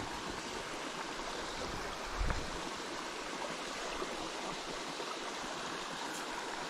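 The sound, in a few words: flowing creek water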